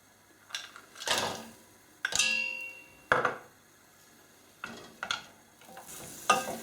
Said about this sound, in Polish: Cały czas oczywiście mieszam.